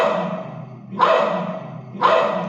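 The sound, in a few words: dog barking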